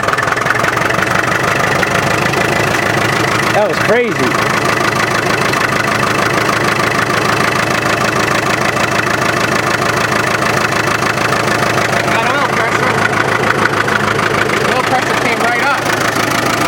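A 1965 International TD6 diesel dozer engine, running on gas at its first start in years, idles with a steady, knocking rumble throughout, while someone briefly speaks over it.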